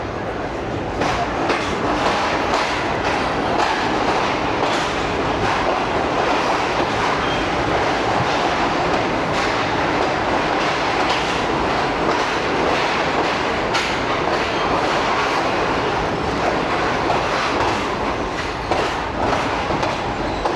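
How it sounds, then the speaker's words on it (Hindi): A Shalimar Express passenger train in AC Standard class rumbles steadily along the rails with a continuous, loud clickety-clack and carriage roar that lasts throughout, with no talking. "फैसलाबाद से रवाना होने के बाद अब शालीमार एक्सप्रेस का स्टॉप होगा टोबा टेक सिंह पर"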